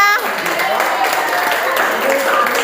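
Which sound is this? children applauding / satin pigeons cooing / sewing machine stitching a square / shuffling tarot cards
children applauding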